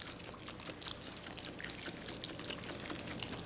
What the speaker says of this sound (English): I'm not going to pour it all in there, but I definitely want enough liquid.